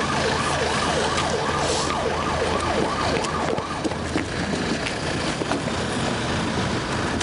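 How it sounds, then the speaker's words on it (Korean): An ambulance siren wails in a steady repeating up-and-down pattern as the ambulance arrives at a funeral site before dawn. It stays loud and close over a constant wash of engine and traffic noise. "지금 막 앰뷸런스가 들어오고 있는데요."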